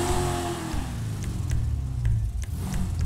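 A car engine revving in a GTA 5 mod shop, a throaty, loud rumble that rises and dips in short surges, close and alone.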